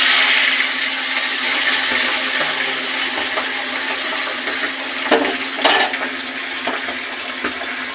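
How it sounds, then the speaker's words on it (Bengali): Fish sizzles in hot mustard oil in a kadai, a loud continuous hissing fry with occasional clatters and pops over eight seconds, no voices. "মাছগুলো ভাজা হবে এবার।"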